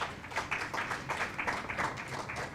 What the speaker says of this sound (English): So a big round of applause to both of them